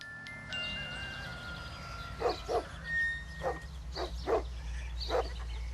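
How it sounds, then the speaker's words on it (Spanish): Several dogs bark in short bursts at visitors arriving at a farmhouse on a coffee farm, the barks spaced irregularly over a steady low rumble of background noise. "No le tengan miedo a estos perros. No les morderán."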